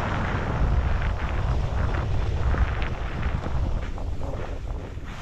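On a fast snowmobile ride at Borovets in Bulgaria, strong wind buffets the microphone. The roar is continuous, low and rumbling, and it fills the whole stretch without a break.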